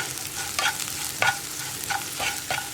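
Onions frying in oil for vazhakka podimas, a low steady sizzle with several bright scraping stirs of a spatula against the pan at irregular moments.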